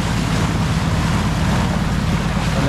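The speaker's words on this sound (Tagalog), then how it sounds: "Talagang malalaki ang alon." Large sea waves surge and rush steadily around a boat making a crossing off Placer, Surigao del Norte, a loud broadband roar mixed with wind buffeting the microphone.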